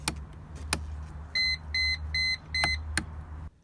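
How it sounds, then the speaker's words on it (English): A stiff switch in a 2009 armored Mercedes G500 snaps with a few sharp, loud clicks inside a quiet cabin, alongside a series of short electronic beeps. "this is the hardest turning switch in old Mercedes I ever been in. It even sounds loud and sharp, just listen to it."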